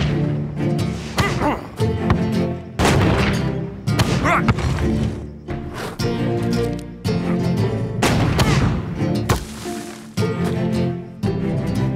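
Cannon fire in an animated football cartoon, heavy booming blasts recurring every second or two amid busy music and effects, loud and close throughout.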